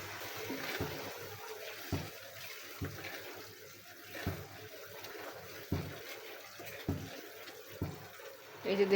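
Reserved water poured slowly into a chicken kabab mixture in a kitchen, a soft trickling splash with faint scattered knocks, quiet and close under a speaking voice.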